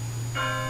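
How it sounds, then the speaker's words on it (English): A single bell tolls in a staged Macbeth scene, struck once partway through and ringing on with a sustained metallic tone over a low steady hum. "the bell invites me"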